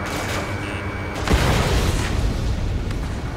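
Missile launch and explosion in Ace Combat 7: a rushing whoosh gives way to a deep, loud boom that rumbles on under continuous jet noise.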